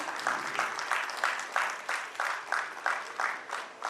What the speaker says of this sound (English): Please keep those claps coming,